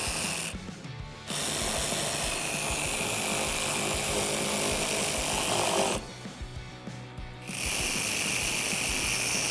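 A hand ratchet tightening two 10mm bolts at the top of a Jeep Wrangler JL inner fender liner, with steady rapid clicking runs broken by two short pauses.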